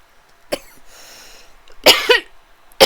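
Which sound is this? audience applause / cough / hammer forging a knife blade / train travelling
cough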